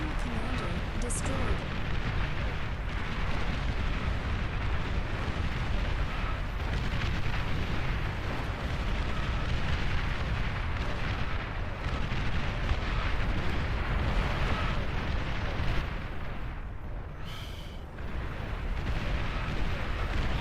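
Enemy commander unit blowing up in the strategy game Beyond All Reason, a dense, continuous roar of explosions and artillery-like booms filling the scene, loud and sustained amid heavy battle noise.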